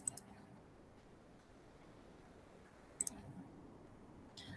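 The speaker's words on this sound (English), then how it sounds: "just double click on the" A computer mouse gives two crisp double clicks a few seconds apart, then a single click at the end, each faint and close against a quiet room.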